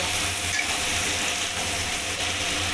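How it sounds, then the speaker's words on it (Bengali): Eggplant and potato frying in a pan for a shrimp-head and Malabar spinach dish, giving a steady, close, even sizzle with faint clinks of stirring throughout and no talk. "এগুলো লাল করে ভেজে নেব"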